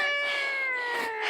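A cat meows close by in one drawn-out, wavering cry that slides slightly downward in pitch, with faint handling noise underneath.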